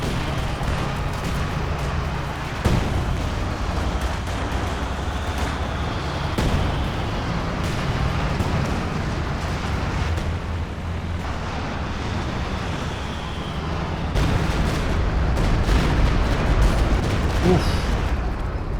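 Walking Stuka rocket artillery barrage in Company of Heroes 2 during a 2v2 match, a continuous rumble of explosions and scattered blasts, with sharper impacts at intervals and heavier detonations toward the end.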